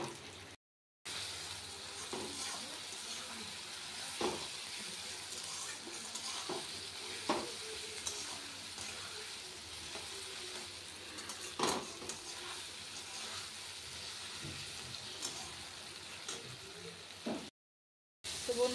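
Spice masala fries in a pan while being stirred for a chicken curry, giving a constant close sizzle with occasional scraping strokes and clinks, and no voices over it.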